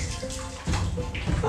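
Boiling water from a 1.5-litre kettle pours in a close, splashing stream over about a second and a half, with a voice speaking briefly alongside.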